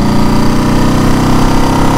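A motorcycle engine drones loudly and steadily while the bike is ridden up to highway speed, a constant throbbing, pulsing roar with no pauses.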